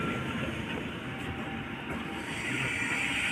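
A train rumbles along in a steady, dense roar with faint clattering, heard from on board or close beside the tracks at a New Year outing in Romania.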